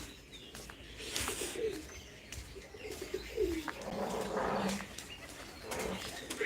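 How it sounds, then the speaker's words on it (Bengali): Pigeons coo softly in low, rolling calls, several overlapping phrases against a light outdoor background with occasional chirps. "এই যে আমার কবুতরগুলো"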